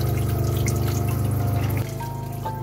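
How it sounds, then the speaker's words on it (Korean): Hot water heated by a Truma Combi runs from an RV shower in a steady, close hiss with a low pump hum that drops in level partway through. "아직까지 물이 잘 나오고 있습니다"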